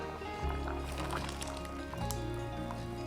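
Thick ground coconut paste tipped into a pot of boiling red bean kurma, giving soft squishy plops and liquid stirring sounds over a steady low bubbling simmer, close and continuous.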